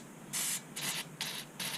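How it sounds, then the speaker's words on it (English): Aerosol spray fired into a small vent on an Ariens 5524 snowblower: four short hissing bursts, each about a quarter second, close and fairly loud with brief pauses between them, no talking. "Okay, so I'm spraying this, you can see it shooting out the side."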